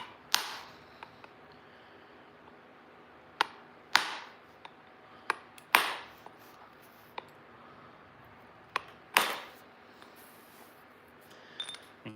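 Sharp, dry clacks of flint knapping, a hammerstone striking stone to remove flakes, spaced irregularly with pauses between strikes, close and alone in a quiet space.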